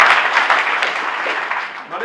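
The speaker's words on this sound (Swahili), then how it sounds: "Tumũhũre makofi mega tũgĩthagia arogocwo." A congregation applauding at a church ordination service for pastors and deacons, a dense steady wash of many hands clapping close by, holding level for about two seconds before easing slightly at the end.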